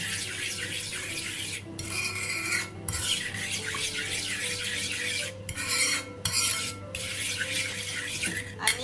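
A spoon scrapes and swirls in a bowl, stirring the mixture for mango sticky rice until it dissolves. The rasping strokes repeat steadily with brief pauses over a constant low hum.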